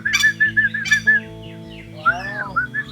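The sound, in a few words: black swan calling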